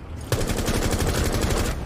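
Gunfire in the video game Rainbow Six Siege bursts in suddenly after a brief quiet start, then continues as a loud, rapid run of close automatic shots.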